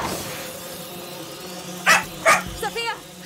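A dog in the video game A Plague Tale: Requiem barks twice in quick succession, loud and close, followed by softer yelps and voice-like sounds over a low ambient hum.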